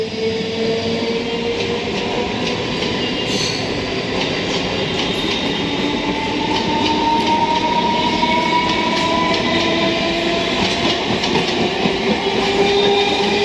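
A train rolls through Bidhannagar railway station with a constant loud rumble, rhythmic clickety-clack of wheels and faint rising squeals from the rails.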